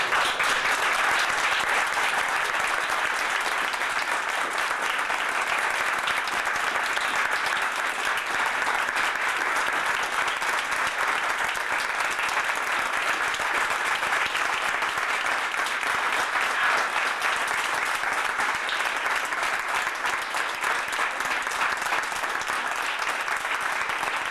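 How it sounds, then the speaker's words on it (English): Sustained applause and ovation at a 1994 ACT UP press conference on police reform, a dense roomful of clapping that holds steady and loud for over twenty seconds, with no individual voices standing out. "we all owe Chris Hennelly a tremendous, I think, round of applause and ovation"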